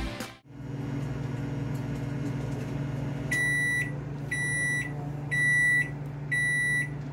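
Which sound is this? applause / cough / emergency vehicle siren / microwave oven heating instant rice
microwave oven heating instant rice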